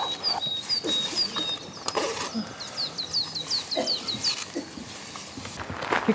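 Birds chirp and trill in a quiet mountain valley at Tokusawa in the snowy Northern Alps, a bright run of repeated short calls fairly close by, standing out over soft background rustle.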